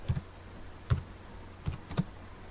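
Four soft, spaced keystrokes tap on a computer keyboard while a command is entered in a terminal, close and quiet against a low steady background hum.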